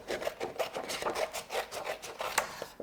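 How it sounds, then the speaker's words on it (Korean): Paper template for a Sierpinski triangle model being cut, giving a soft, steady rhythm of close, quiet snips and rasping rubs with no voice over it. "선생님이 이 도안을 한번 잘라 볼게요"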